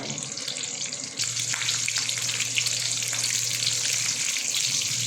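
Tomato sautéing in a small amount of cooking oil, a steady close sizzle that steps up louder about a second in and then holds a dense crackling hiss.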